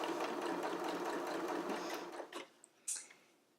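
A sewing machine quilting a fabric tortilla warmer whirs in a fast, steady run, then stops with a couple of short bursts and clicks, close and alone.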